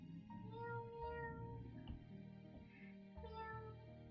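A person sings cat-like meows, the voice imitating a cat in a series of short, tuneful mews spread evenly over a few seconds, quiet and close with no other sound around it.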